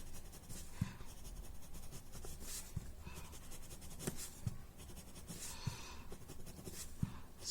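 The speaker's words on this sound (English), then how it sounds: "I'm adding the pencil" Graphite pencil scratching steadily across paper while a Zentangle-style tile is drawn, a continuous close, dry scraping texture broken by a few soft taps, with no talk.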